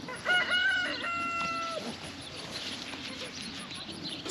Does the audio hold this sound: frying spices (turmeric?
no